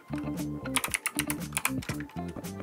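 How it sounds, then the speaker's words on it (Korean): Rapid typing on a keyboard connected to an 11-inch third-generation iPad Pro, crisp close clicks in quick bursts with brief pauses, alone and fairly quiet. "마우스를 쓰는 거 하고 그냥 손가락으로 이렇게 하는 거 하고 봤을 때"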